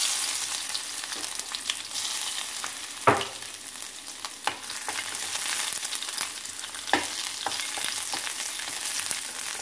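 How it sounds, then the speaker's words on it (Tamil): Unpeeled garlic cloves dry-roasting in a pan over a low flame, a soft continuous crackle punctuated by scattered clicks and scrapes as they are stirred, close by with no voices. "பூண்டை முதல்ல அந்த தோலோடையே போட்டு அப்படியே வறுத்துக்கலாம்."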